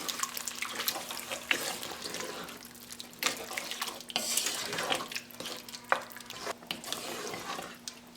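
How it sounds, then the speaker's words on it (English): Water poured into thick mushroom gravy while it is stirred constantly, a trickling splash mixed with a gentle sizzle and scraping spoon strokes. "I'm going to add a little bit of water because it's a little bit too thick."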